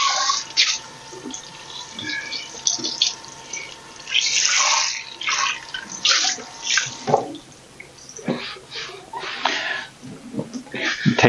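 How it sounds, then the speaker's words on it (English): Tap water running over a washed wooden salad bowl of walnut and maple, splashing and gurgling unevenly as the bowl is turned and rinsed, close and continuous. "Rinse it off."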